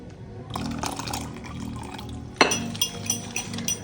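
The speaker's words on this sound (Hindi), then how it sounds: "और हल्का से इसमें पानी भी डालना है।" Water is poured into a yogurt and gram flour kadhi batter, a close liquid trickle and splash that starts after a moment of stirring and ends in a few drips and glassy clinks.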